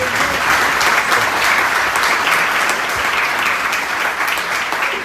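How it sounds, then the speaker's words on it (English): A ceilidh audience breaks into loud, sustained applause after a performance, dense crowd clapping holding steady and close for the whole stretch with no voices above it. "Big round of applause for James and Margie."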